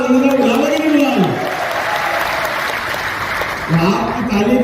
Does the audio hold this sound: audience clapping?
yes